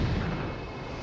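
A single deep, rumbling bomb blast on skeleton bones in the video game Zelda: Twilight Princess, loud and close, dying away within about a second.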